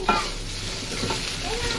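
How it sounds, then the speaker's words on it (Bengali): Polao rice is fried and stirred in a hot pan for a meal with beef, garam masala and spices. A loud, continuous sizzle sits beneath scraping stirs, and nobody speaks. "এখন আমি পোলার চালটা ভেজে নিব"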